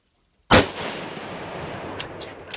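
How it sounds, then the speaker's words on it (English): A single loud rifle shot during a hog hunt in Alabama, a sharp close blast followed by a long rolling echo, with faint clicks toward the end. "I'll just shoot that big one right there."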